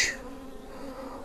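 Honey bees in an opened hive make a soft, continuous droning buzz close by, steady and low with no talking.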